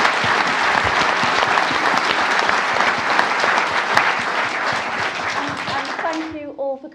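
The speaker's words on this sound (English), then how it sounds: "Can we give them a nice round of applause?" An audience at an evening event with a former footballer applauds a panel, dense and loud clapping sustained for several seconds before fading, with a voice beginning to speak as it dies away.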